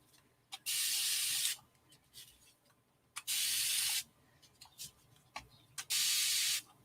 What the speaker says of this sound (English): just take this and spray down in the corner a little bit